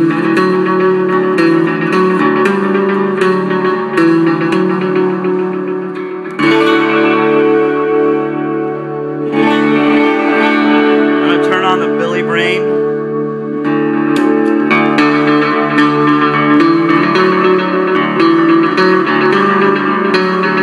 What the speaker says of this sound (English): Adding the strymon, this is a Roland space echo in stereo.